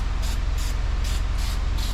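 An aerosol can of brake cleaner sprays in several short bursts, a sharp hissing repeated about five times in quick succession close by.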